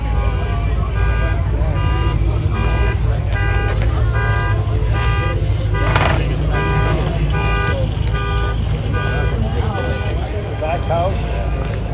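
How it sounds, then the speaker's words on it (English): Several car alarms blare in a parking lot at the Long Beach Hi-Performance Swap Meet and Car Show after a gasser car starts up, with loud, repeating electronic tones cycling over a low rumble throughout. "I think the gasser started up, set off every car alarm in the parking lot."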